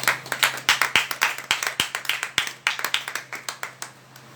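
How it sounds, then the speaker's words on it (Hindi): Church congregation clapping for a member named Mohit, a fairly steady run of sharp, close hand claps from a modest group, sounding busy for about four seconds over a low hum. "तालियां बजाएंगे मोहित के लिए।"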